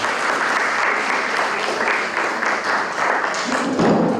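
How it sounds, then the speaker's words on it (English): Sustained applause from an audience at a Technology Day 2023 event, dense and steady throughout, swelling slightly near the end. "another round of applause"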